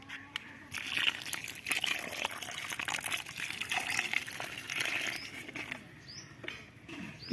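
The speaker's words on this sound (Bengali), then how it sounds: "এবার একটু জল দিয়ে দিই" Water poured from a container onto the soil of a freshly repotted star fruit plant, a soft continuous patter and trickle lasting several seconds, close by with no talking.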